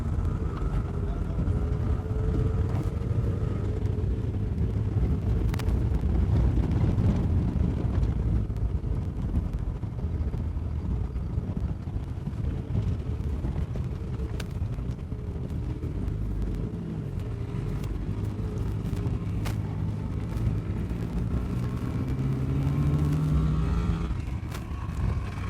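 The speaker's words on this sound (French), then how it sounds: "Avec notre ami le caméraman Christian qui est conduit en moto par Adrien." A motorcycle ridden by Adrien carries cameraman Christian along the road at Bisesero, its engine a steady close drone buffeted by wind throughout.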